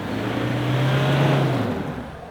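A Toyota Hilux crawls slowly toward a boggy exit, its engine a steady low drone that swells slightly and then fades, no talk over it.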